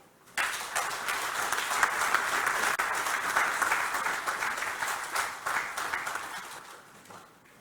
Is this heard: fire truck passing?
no